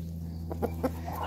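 A young hen in a farm pen gives a few short, soft clucks, spaced a beat apart and fairly close, over a steady low hum.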